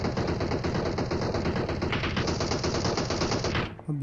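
Sustained automatic gunfire in a battle royale game squad fight, a dense, loud, unbroken rattle of rapid shots that continues for several seconds before cutting off abruptly near the end.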